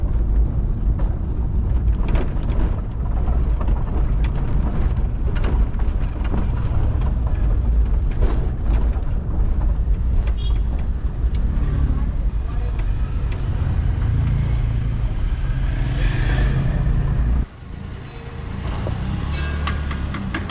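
Rickety, flimsy taxi ride through the streets of Kathmandu, Nepal, with a continuous rumbling engine and road noise close inside the cabin, plus a brief dip near the end.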